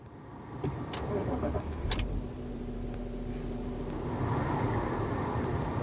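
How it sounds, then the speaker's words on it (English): A BMW E39 engine cranks and starts inside the car, a steady motor rumble rising toward the end, with a couple of sharp clicks early on. "as I start the car"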